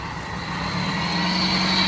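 A Toyota Prius hybrid car pulls away with a steady, broadband engine and road rumble that swells slightly as it moves off, close by and without talk.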